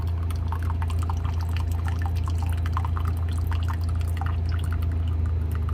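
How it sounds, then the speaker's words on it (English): Water pours slowly and steadily into a container, a continuous trickle over a low, constant hum, with no talking. "It almost pours too slow. I mean, it's filling up, but it's"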